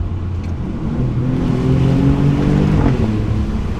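An Alfa Romeo Giulia Quadrifoglio engine revs inside a tunnel, a loud, deep, rising roar with booming echo, held steady for a few seconds without any talk.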